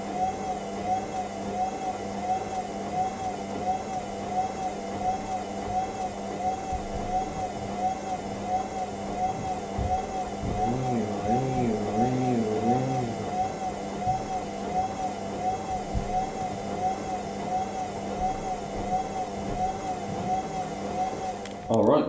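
Indesit IWDC6143 washer dryer with a Nidec motor, standing on a wooden floor, runs a wool programme with a steady drum whir and a motor hum that shift in pitch midway, continuous and fairly close.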